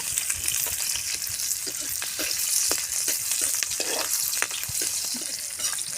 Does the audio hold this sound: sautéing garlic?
yes